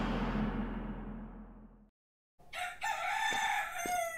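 A rooster crows in The Legend of Tianding video game, a long, loud cock-a-doodle-doo call that fades into a brief silence. Busier game sounds with sharp hits follow.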